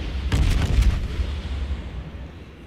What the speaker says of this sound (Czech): A první salva na nepřátelskou montánu, která se spotla.